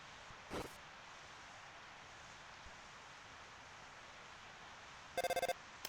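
In the video game Deltarune, a telephone rings in a short electronic burst of repeated pulses near the end, after a faint earlier blip over quiet hiss.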